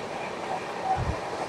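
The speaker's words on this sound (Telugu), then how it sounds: "ట్రైన్ జర్నీ సూపర్ ఉందండి." A moving passenger train on the Nidadavole to Hyderabad run fills the space with a steady low rumble and rushing air noise, a little louder near the middle, continuous and close, with no clear talk over it.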